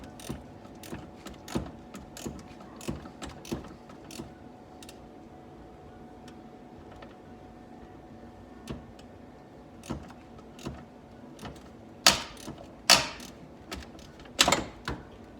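Wrench working a bolt loose on the battery of a 2010 Chrysler Sebring: a steady run of small metallic clicks and ratchet ticks, faint and spaced, with a few louder sharp clanks near the end and no talking.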